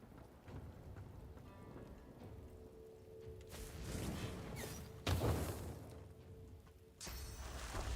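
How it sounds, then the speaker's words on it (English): A rain and thunder spell cast in the video game Divinity, with pattering rain, rumbling thunder bursts and whooshing surges over a quiet game soundscape. "And then we're going to make it rain."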